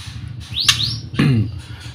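A three-month-old caged songbird bred from a blorok-patterned parent gives two short, bright rising chirps about half a second apart, close and clear over a steady low background hum.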